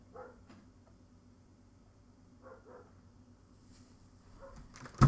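Dog barking in short, faint bursts at a distance, a few separate barks against quiet background noise before a louder sound cuts in at the end.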